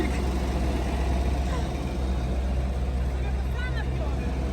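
A tractor engine drones steadily at close range, a loud, continuous low rumble with no break.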